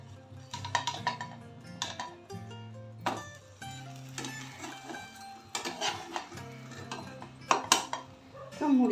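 Kitchen clatter from a pan as a lid is set over a buttered sandwich toasting on it, a series of sharp metallic clinks and knocks spread through the stretch, fairly faint and close.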